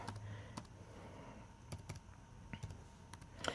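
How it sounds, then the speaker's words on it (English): Sparse, unhurried keystrokes on a computer keyboard typed with one hand while entering an email address: isolated clicks spaced apart, fairly quiet, with no voices. "I'm having to type with one hand, so excuse the time that it takes"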